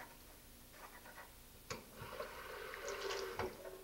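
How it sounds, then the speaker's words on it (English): Water runs from a kitchen faucet over a potato being rinsed, a soft steady splash that grows fuller midway, with a few light knocks and clicks as it is handled. "after a second rinse, come back, scrub a little bit more"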